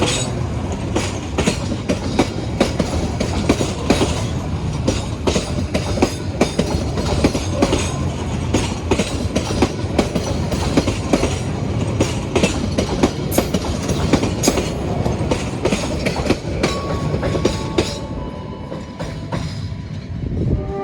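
The Logawa passenger train runs steadily on rails after leaving Leces station, a continuous loud rumble with rapid clickety-clack of wheels and a faint squeal near the end.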